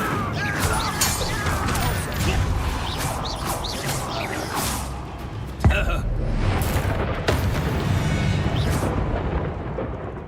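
Incendio fire spells cast in Hogwarts Legacy, loud whooshing bursts and crackling impacts repeating over steady combat noise, with one sharp crash midway.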